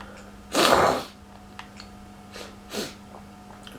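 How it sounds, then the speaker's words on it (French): A person sniffles sharply through the nose twice, a strong snort-like sniff followed by a softer one, close up against a quiet background. "je renifle un peu"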